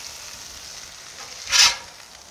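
Onions hit hot oil on a 28-inch Blackstone Pro Series griddle, giving a single short sizzling burst that rises quickly over quiet background and fades within a second.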